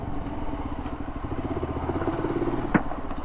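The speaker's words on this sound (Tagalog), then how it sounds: "May motor pa rin sa harap eh." A tricycle motorcycle engine idles nearby on a road near Ditumabo Mother Falls in San Luis, Aurora, a steady low throbbing putter with a brief sharp clatter near the end.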